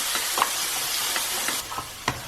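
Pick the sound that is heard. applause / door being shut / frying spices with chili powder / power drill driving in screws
frying spices with chili powder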